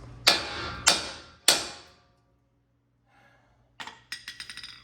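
Three sharp metallic hammer strikes on a suspension part of a fifth-generation Toyota 4Runner ring out in quick succession, then a pause and a softer cluster of rapid clanks and rattles.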